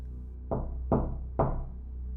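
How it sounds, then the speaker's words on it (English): Three clear, loud knocks on a door in the hallway of a small home at night, evenly spaced about half a second apart, each with a short ringing decay, over a steady low hum. "3 dramatically clear knocks again echoed down the hallway of our small home."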